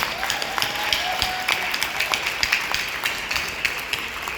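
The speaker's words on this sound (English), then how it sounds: "let's have a round of applause" A crowd claps steadily at a political speech event, a dense patter of many hands with a few sharper individual claps standing out.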